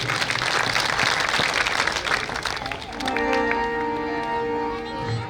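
An audience at a devotional bhajan performance bursts into loud, dense applause that fades after a few seconds, leaving a sustained tonal musical drone behind.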